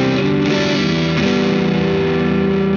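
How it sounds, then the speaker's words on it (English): Single coil electric guitar on an amp's dirty drive channel, a short burst of distorted chords and notes played loud and close, ringing steadily before cutting off at the end. "This is the dirty channel sound on a single coil guitar."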